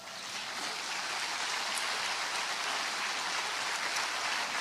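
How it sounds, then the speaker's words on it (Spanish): A church congregation claps for the Lord in a dense, steady wash of applause that holds evenly for several seconds, with no voices over it. "¿No le pueden dar un aplauso al Señor?"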